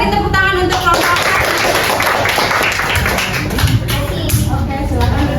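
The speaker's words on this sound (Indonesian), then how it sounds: "beri tepuk tangan untuk kelompok 1" Applause from a classroom for a student group after a science demonstration on light refraction, steady dense clapping and tapping running throughout with voices mixed in.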